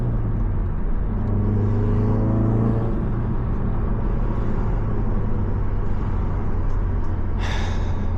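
A car engine hums from inside the cabin, rising in pitch then dropping as gears shift, followed by a steady lower drone and a short burst of noise near the end, with no talking.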